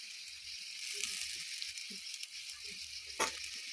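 Chowmein noodles stir-frying in a pan with potato, carrot and onion, giving a steady close sizzle with soft scraping stirs and one brief sharp clatter near the end.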